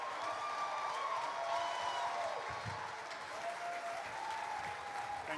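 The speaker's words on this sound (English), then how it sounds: "Please join me with a warm applause" A conference audience applauds to welcome a speaker to the stage, dense and steady clapping from many hands filling the room at an even level throughout, with faint voices mixed in.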